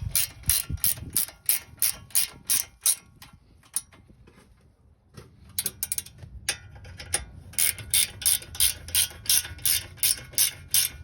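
A ratchet wrench clicks rapidly in repeated runs while tightening bolts on the front rotor of a 2014 Kia Forte, close and crisp, with short pauses between strokes.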